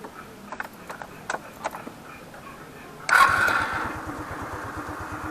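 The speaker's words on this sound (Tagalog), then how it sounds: "susubukan po natin i-start kung magkakarga yung battery natin" A Rusi scooter engine is started: faint clicks and brief whirring, then it catches at about three seconds and settles into a steady, close, rhythmic idle.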